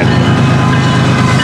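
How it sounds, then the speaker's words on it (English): FEC210 freight train passing on a Tuesday morning, a steady loud rumble with rolling wheel noise sustained throughout, close by and alone without voices. "The morning train at FEC210"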